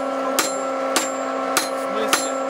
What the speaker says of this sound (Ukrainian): Я била молотком